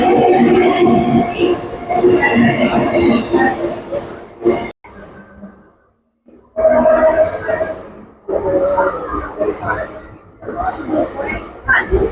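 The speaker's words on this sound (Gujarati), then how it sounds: "પ્લેટફોર્મ નંબર પાંચ ઉપર આવશે આપણી ટ્રેન" Rumbling train and station noise fill a Mumbai railway platform, with a brief lull midway before the rolling din returns; voices talk over it.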